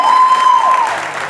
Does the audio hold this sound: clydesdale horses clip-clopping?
no